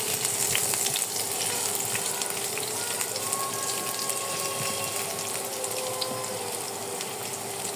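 Chopped garlic and ginger sizzle in hot oil in a pan for a chicken paratha roll, giving a steady, close hiss that holds without a break, with faint music in the background.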